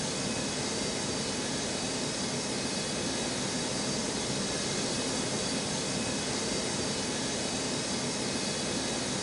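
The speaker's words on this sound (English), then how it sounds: "Cleared for takeoff runway 4" Jet airliner taking off from a runway at Ronald Reagan National airport, a steady, loud broadband engine roar that holds evenly throughout with no voices.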